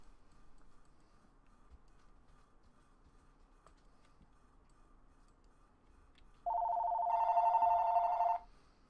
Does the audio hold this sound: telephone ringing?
yes